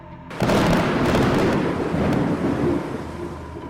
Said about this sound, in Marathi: आभाळात वीज कडाडल्या आणि पाऊस सुरू झाला